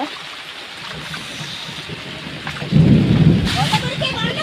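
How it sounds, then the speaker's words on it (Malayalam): Heavy rain pours steadily outdoors near rice-field paddies, with a deep rumble of thunder swelling midway through the steady downpour. "ഭയങ്കര മഴയാണ് ഇവിടെ"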